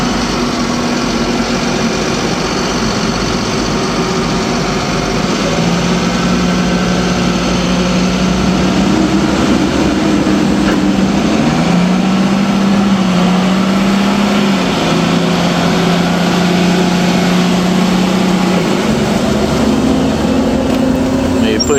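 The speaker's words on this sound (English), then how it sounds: "I'm trying to come down here with the excavator and help him out, kind of fill them in." An excavator engine runs steadily while grading berms on a rifle range, a constant loud, close diesel drone that shifts pitch slightly as the machine works, with no break for the whole stretch.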